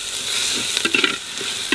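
Spice paste of ground green and dried chillies with salt and turmeric being fried and stirred in a pan for a raw jackfruit dish, with a steady sizzle and a few soft scraping clicks of the spoon.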